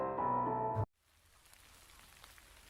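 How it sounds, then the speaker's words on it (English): Rain falling in a video game, a steady soft patter that fades in after a loud musical passage cuts off abruptly, continuing faintly and evenly to the end. "It starts to rain while we are heading home."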